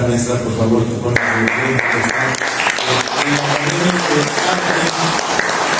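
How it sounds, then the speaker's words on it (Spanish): Audience applause for a teacher at a cultural gathering in Huamantla, a broad steady wash of clapping running the whole time under amplified speech and a music-like tonal bed. "Quiero pedirles un aplauso para la maestra"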